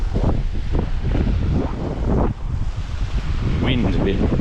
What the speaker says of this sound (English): Wind's a bit going